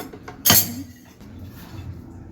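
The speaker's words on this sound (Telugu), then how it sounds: "మూత తీసుకొని" A single sharp metallic clink as a lid comes off a pot of cooked drumstick pieces, followed by quiet handling noises.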